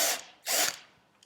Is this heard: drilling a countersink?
yes